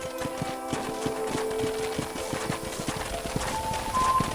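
Horses trotting in Red Dead Redemption, their hooves making a steady, fairly quick clip-clop rhythm at moderate volume with faint whistle-like tones over the top.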